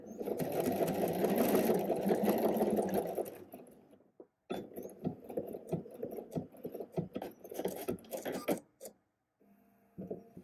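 A sewing machine stitches a ready-to-wear garment waistband during an alteration, running in a long steady burst, pausing, then whirring in shorter stop-start runs up close.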